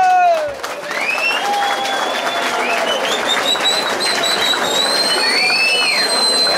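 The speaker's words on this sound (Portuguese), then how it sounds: "Eu queria uma salva de palmas para todos." An audience applauds a caipira viola music duo at a country venue, with steady, thick clapping and whistles rising above it throughout.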